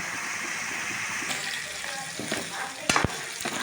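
Paneer frying in ghee in a pan for palak paneer, a steady close sizzle with brief louder crackles and spatters near the end.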